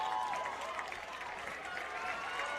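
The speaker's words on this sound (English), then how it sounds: "Whole crowd on their feet." A crowd at a high school football game between DHS and Archbold cheers and claps steadily from a distance, a dense roar of voices with a commentator talking over it.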